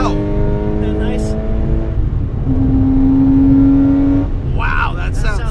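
A Porsche 997 Carrera 4S with a manual gearbox revs hard toward 7,000 RPM, its engine note climbing through a gear and then holding a steady high tone, loud and close, with voices talking at the start and end.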